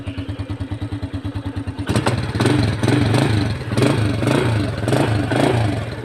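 A 110cc Thai motorcycle idles close by with an even, soft putter, then the throttle is blipped into a louder, sustained running roar that rises and falls in gentle waves.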